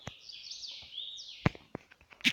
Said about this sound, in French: Les oiseaux ils font vraiment beaucoup de bruit.